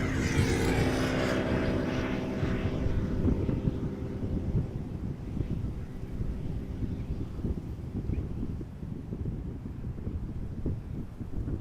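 A large airliner, such as a 777, taxies slowly at Amsterdam Schiphol Airport, its low steady engine rumble heard at a distance alongside wind buffeting the microphone.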